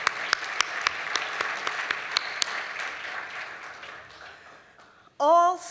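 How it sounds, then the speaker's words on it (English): Audience at a New Jersey benefit dinner applauding steadily, with scattered sharp claps and cheers over a few seconds before the applause fades and a voice begins talking. "Let's give the DirecTV team another round of applause."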